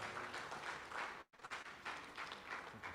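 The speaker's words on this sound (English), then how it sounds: "Please, a very warm applause for my president." Audience applause at a national seminar for judges on banking matters, a dense sustained wash of many hands clapping that cuts off abruptly for a moment, then resumes just as full.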